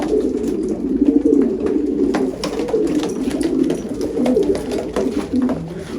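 Çarçı breed pigeons cooing steadily in a loft, overlapping soft throaty coos repeating close by with no talk.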